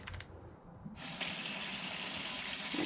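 Water gushes steadily into a container to dilute Simple Green cleaner for washing a gravel bike chain. It starts abruptly after a few short splashes and continues as an even, loud pour.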